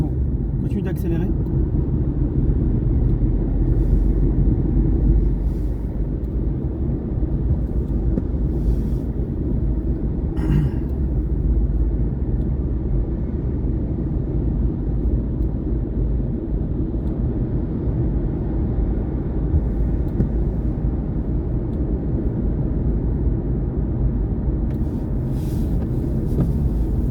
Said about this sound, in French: Continue d'accélérer.